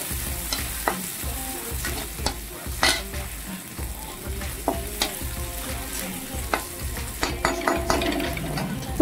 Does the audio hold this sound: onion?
yes